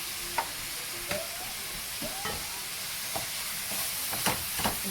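Tomato paste gets stirred into a meat pie filling for Haitian paté, with soft scraping strokes and a few light clicks of the spoon over a faint steady hiss.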